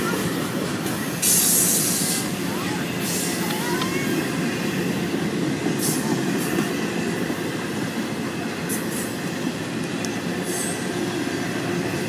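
A train rumbles by close and loud, with wheels clattering and brief high squeals over a constant roar.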